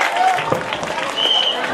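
Crowd at an outdoor political rally claps to welcome a speaker to the stage, a short burst of dense applause with a voice speaking over it.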